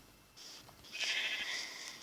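Sheep bleating in Minecraft during survival play, two short bright bleats, the second louder and longer, heard alone at close range.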